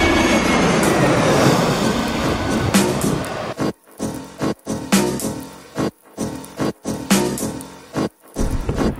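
A train rumbles and clatters close by, with broadband rolling noise broken by rhythmic gaps like passing carriages or wheel joints.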